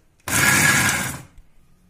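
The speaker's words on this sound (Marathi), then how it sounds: "मिरची, लसूण, कडीलिंब आणि त्यानंतर कॉर्नचे दाणे असं आपण ओबडधोबड वाटून घेतलेलं आहे" A mixer grinder whirs in one loud burst of about a second, coarsely grinding green chilli, garlic, curry leaves and corn kernels, then cuts off to near silence.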